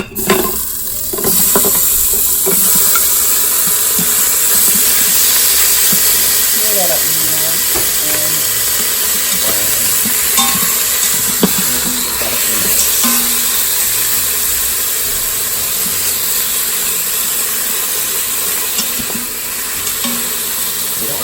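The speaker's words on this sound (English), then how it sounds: "We'll add the beef. Wait for the sizzle." Beef sizzles and hisses steadily as it sears in an Instant Pot, with stirring scrapes and occasional faint voices over the continuous frying noise.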